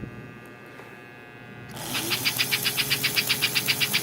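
A rescued S gauge model steam locomotive with its smoke unit switched on gives a rapid, steady chuffing pulse that starts abruptly and repeats evenly at close range, with a faint motor whine underneath.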